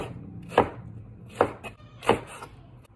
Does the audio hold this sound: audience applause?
no